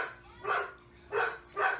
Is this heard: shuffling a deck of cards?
no